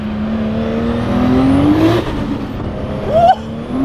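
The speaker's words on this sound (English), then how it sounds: "Let's do a second gear pull again." A 600HP Nissan Skyline R34 GT-T pulls hard in second gear, its engine note climbing steadily in pitch with a loud, continuous roar before a brief dip and a sharp rise again near the end.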